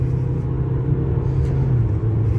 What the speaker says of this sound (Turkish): Gaza bir daha basıyorum.